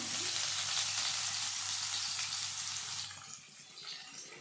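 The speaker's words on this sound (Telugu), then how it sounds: "ముందే రెడీ చేసి పెట్టుకున్న ఎర్రగడ్డలు వేద్దాం. సన్నగా కట్ చేసినట్టు. నూనె అయితే కాలింది." Thinly sliced onions hitting hot oil for chicken fried rice, giving a loud, steady sizzle that fades to a quieter crackle after about three seconds.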